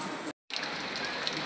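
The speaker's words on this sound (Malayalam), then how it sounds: "അപ്പോൾ പുറത്ത് നല്ല മഴയാണ്" Heavy rain pours outside as a dense, even hiss that briefly cuts out for a moment, then carries on.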